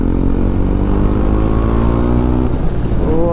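A KTM Adventure 390, freshly serviced with new engine oil and fitted with a BMC air filter, idles loudly up close and then blips its throttle in a quick rising rev near the end.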